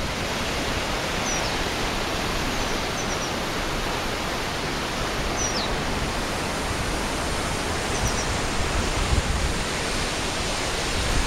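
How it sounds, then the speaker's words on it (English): Steady, even roar of a waterfall, a continuous broadband rush heard from a moderate distance, with faint bird chirps above it and no voices. "So here's the waterfall."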